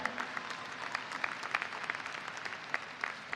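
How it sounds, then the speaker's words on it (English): A crowd at a high school graduation ceremony applauds, with many hands clapping in a dense, steady patter that sounds somewhat distant and fairly quiet. "Give yourself a round of applause, parents."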